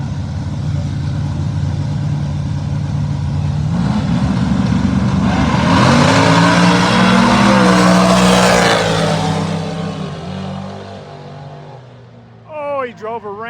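Race cars roar through a no-prep street grudge race, engines building to a loud, sustained howl that sweeps past and fades, with crowd voices and an announcer speaking over the noise near the end.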